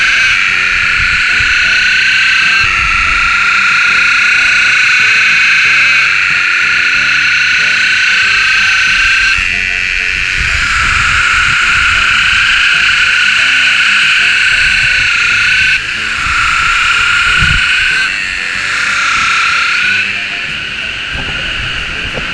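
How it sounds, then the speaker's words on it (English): A chorus of hundreds of cicadas at a wild campsite near Paradise Falls makes a loud, continuous, high-pitched buzzing drone that swells and dips slightly over time, with no talking. "That's your cicada playing the music."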